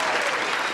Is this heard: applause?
yes